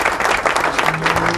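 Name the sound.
applause for the Lord Jesus Christ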